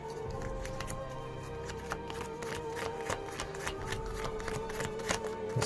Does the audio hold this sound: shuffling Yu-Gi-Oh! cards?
yes